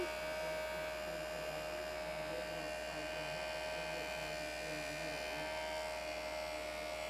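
Jewelry pliers being polished with compound on a JoolTool rotary polisher, a steady, even electric motor whine and buzz holding constant throughout at close range.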